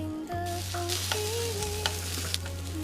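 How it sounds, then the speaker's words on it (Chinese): Sugar-crust Suzhou-style mooncakes cook in a covered electric griddle over medium heat, giving a steady, close sizzle with faint crackles throughout, while a low hum and brief tonal whines sit underneath. "预热电饼铛，把生饼放进去，盖上盖子，中火焖5分钟。"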